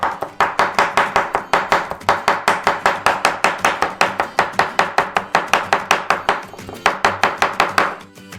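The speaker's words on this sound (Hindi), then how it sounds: "तेल में से कंजर्वेटेड टमाटर निकालते हैं। इन्हें बहुत बारीक स्ट्रिप्स में काट ले।" A knife chops preserved tomatoes taken from oil into fine strips, a fast, steady run of close, sharp board taps with a brief pause near the end and no talk.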